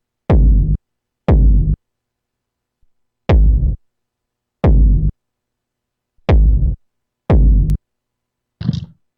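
Six punchy synthesized techno kick drums with a second reverb setting, each a sharp attack with a deep, short, booming tail. They are spaced about a second apart with silence between, and a brief higher, noisier hit closes the run.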